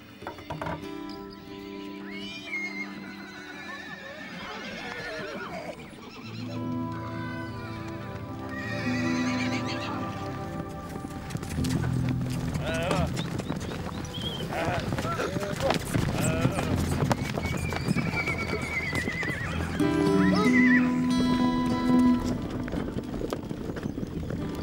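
Several horses whinny and neigh amid the clatter of hooves and background commotion in the Amazonian marshes, with voices mixed in.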